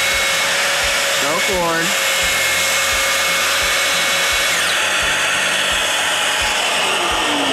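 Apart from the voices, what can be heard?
power saw plunge cut through cabinet panel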